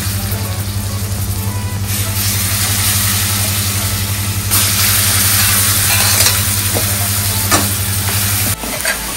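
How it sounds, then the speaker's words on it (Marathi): Marinated chicken pieces fry in a pan while being stirred, with a steady loud sizzle and a low constant hum underneath, plus occasional scraping stirs. "ते थोडंसं असं हलवायचं आणि ह्याला थोडंसं फ्राय होऊन द्यायचं पहिलं."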